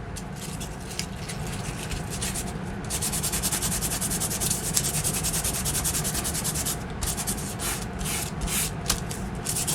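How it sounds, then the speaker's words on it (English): A National Geographic magazine page being sanded to distress it, a continuous close rough rubbing scratch that runs without pause for about ten seconds, with no speech. "Now you are going to sand off some of the numbers"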